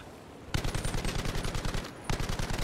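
An M1919A6 Browning machine gun firing in Battlefield V, two rapid sustained bursts of close, loud, evenly spaced shots with a brief pause between them, no talk.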